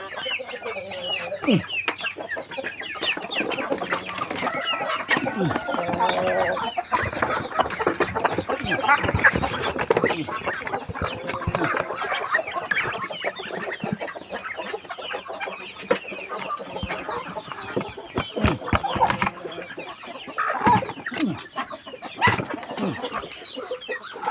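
A large flock of chickens and ducks cluck and squawk in a dense, continuous chorus nearby, with scattered louder calls and some people talking among them.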